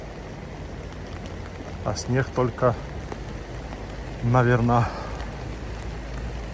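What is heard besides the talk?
rain falling during a walk in Sochi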